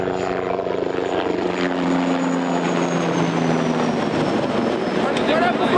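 A helicopter passes overhead outdoors before a race, its steady rotor and engine drone holding at a constant level throughout, with faint people's voices beneath it.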